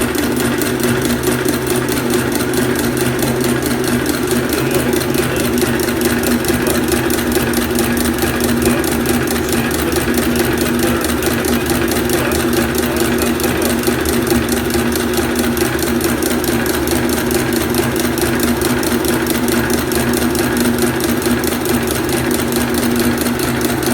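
A sewing machine stitches a zigzag seam, its fast, even mechanical clatter running steadily and up close for the whole stretch with no voices.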